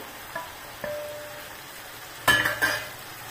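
Fried eggplants dropped into masala in a pan and stirred, a few soft clinks of a spoon followed by a brief burst of sizzling and scraping near the end, close but fairly quiet, with no talking.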